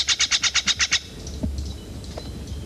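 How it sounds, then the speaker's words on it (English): A Steller's jay calling, a rapid series of about eight harsh, evenly spaced notes in quick rhythm, then a quieter stretch with faint rustles and a few softer calls. "Steller's jay"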